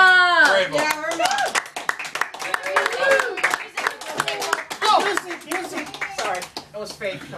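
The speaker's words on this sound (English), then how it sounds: "Applause again!" Audience clapping and applause at a 58th birthday roast, a few sharp hand claps mixed with cheering voices and laughter, fairly close and loud, with people talking over it throughout.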